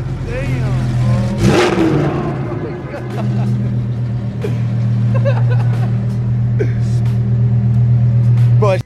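Nissan GTR engine starting up and revving, a loud deep rumble with rising and falling throttle blips, while voices talk excitedly over it.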